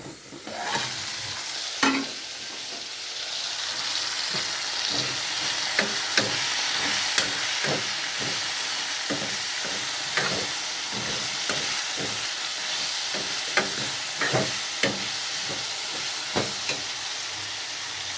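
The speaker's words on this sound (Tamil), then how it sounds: "சரியா, கிண்டி காயை தம் பண்ணுறோம்." Vegetables sizzle in hot oil while a spoon stirs them, a continuous bright frying hiss punctuated by regular scraping and knocking strokes against the pan, close and steady.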